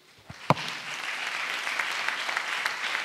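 Congregation at a missionary retreat cheering and applauding, with a sharp clap burst early, then steady dense applause and cheers throughout, fairly loud and close.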